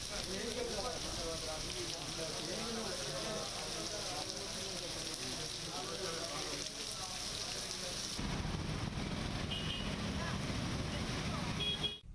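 Heavy rain pours down in coastal Andhra Pradesh, in the Prakasam district, as a dense, unbroken hiss and patter with faint indistinct voices underneath. The texture shifts abruptly partway through.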